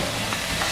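Celery and anchovy stir-fried in a hot pan for chicken and prawn fried rice, a steady loud sizzle with stirring scrapes throughout, no voices.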